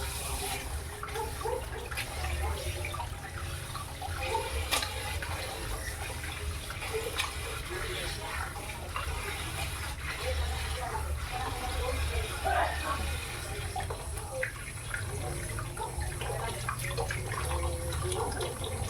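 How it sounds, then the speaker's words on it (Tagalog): Tap water runs steadily while fish is rinsed several times for kinilaw, a raw fish dish, with splashing and a low continuous rush throughout and occasional faint handling sounds. "I-wash natin ng maraming bisis para clean na clean."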